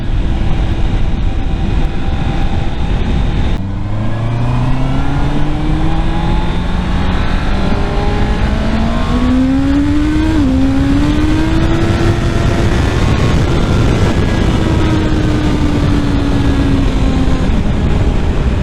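A Honda CBR650R motorcycle with stock exhaust revs hard and climbs through gears, its exhaust note rising in pitch repeatedly, loud and close throughout.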